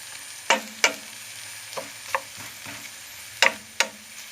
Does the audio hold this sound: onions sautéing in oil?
yes